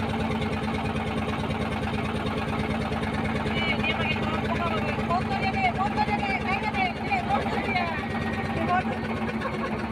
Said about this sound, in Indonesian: Besar sekali kapal perangnya.